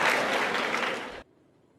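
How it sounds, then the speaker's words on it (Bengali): An audience claps in a dense burst of applause that fades quickly and stops abruptly, leaving near silence. "হাততালি থামাও।"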